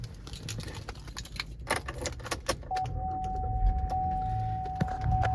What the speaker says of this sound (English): You can go ahead and turn the vehicle on here.